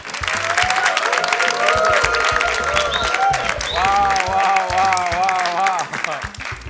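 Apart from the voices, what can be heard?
live studio audience applause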